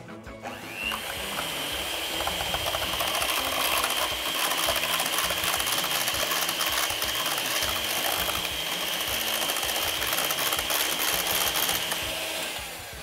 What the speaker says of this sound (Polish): Wszystkie składniki są gotowe, miksuję je na jednolitą masę.